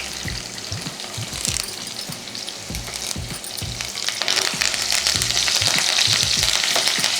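Tempering of garlic and curry leaves sizzles and fries in a pan for Guntur-style bitter gourd curry, loud and close, with stirring scrapes and a sizzle that swells toward the end.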